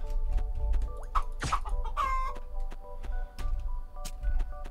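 Several turkeys gobble and cluck in short bursts in a video game, over a low steady rumble, with a few sharp clicks scattered throughout.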